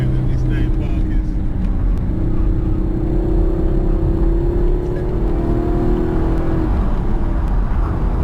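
A 2016 Chevrolet Camaro 2SS drifting on a race track, heard from inside as a loud, steady engine drone with rising whine and road roar throughout, while a person talks over it.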